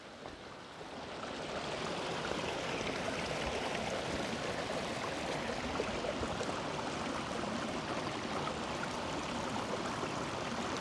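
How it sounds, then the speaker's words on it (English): A creek flows over little dips and small falls, giving a steady, close, full rushing and babbling of water that swells in over the first seconds and then holds constant, with no voices. "this wonderful creek and all the little dips and falls that it has"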